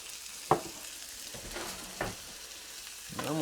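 Garlic fries in a pan with a faint, steady sizzle, broken by a few soft clicks of stirring utensils.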